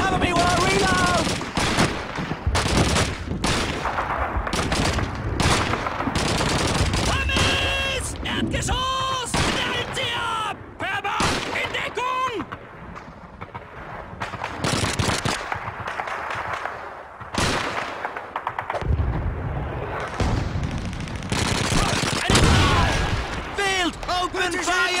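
Heavy weapon fire in Call of Duty 2, rapid machine-gun bursts and rifle shots crackling continuously, loud and close, with shouted radio-style voices and whistling tones mixed into the chaotic battle din.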